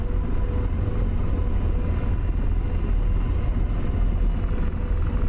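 Simulated AH-64 Apache helicopter in DCS, a continuous loud, low-heavy rotor and turbine drone that stays unchanged from start to finish, with nothing else over it.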